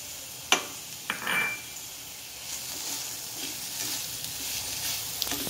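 Tomatoes, garlic, ginger and chili sizzle in a hot pan for rajma masala, starting with a few sharp clatters as they are added, then settling into a steady, close frying hiss.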